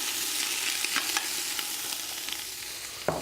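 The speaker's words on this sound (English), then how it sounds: "And we're gonna get our onions cooking." Onions sautéing in a pan give a steady broadband sizzle, with a few scraping stir strokes and a sharper clack near the end; no voices.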